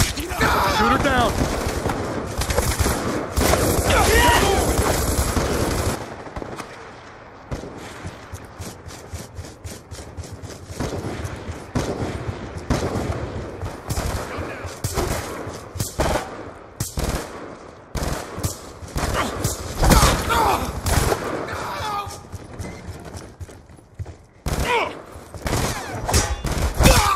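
Automatic gunfire in Call of Duty Black Ops 2 on the Nuketown map, aimed at a hostile UAV overhead: loud bursts of rapid shots with game sound effects and voices speaking throughout.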